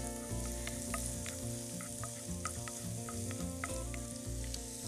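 Chopped ginger and garlic frying in a hot pan for a Kerala squid roast, a steady close sizzle with light scraping taps from a stirring spoon, no voices.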